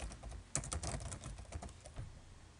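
Someone types a Linux update command on a computer keyboard: a quick run of light, close key clicks over a couple of seconds, faint and without talking.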